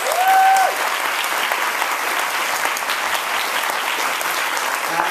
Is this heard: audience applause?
yes